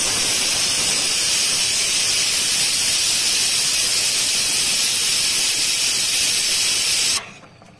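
Steam rushes out of a pressure cooker of vegetables and dal after its whistle, a loud, steady hiss running for about seven seconds before stopping abruptly.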